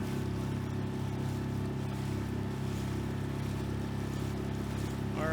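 Cres-Craft micro skiff with a 6HP outboard motor cruising, a steady droning engine with water and wind rush, continuous and close, no talking.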